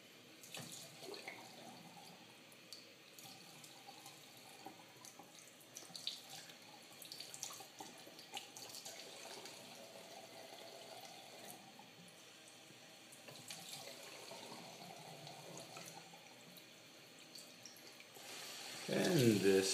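A tap runs steadily into a sink while water is readied for bathing a cat indoors; the flow is a soft continuous hiss that grows louder and splashier near the end.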